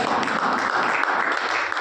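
Applause from an audience at a network marketing talk in India, a dense, steady wash of many hands clapping together, fairly loud and continuous with no voice over it.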